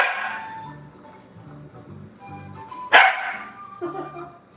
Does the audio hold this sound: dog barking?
yes